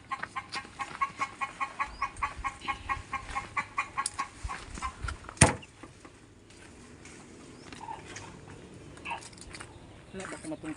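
Chickens cluck in a rapid, rhythmic series, then a sharp thud breaks in and softer scuffling and faint clucks follow.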